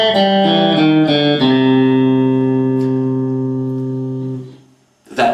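Electric blues guitar lick in A, a short triplet-feel fill played with distortion: a few quick picked notes, then a sustained chord ringing and slowly fading out, followed by a brief new attack at the end.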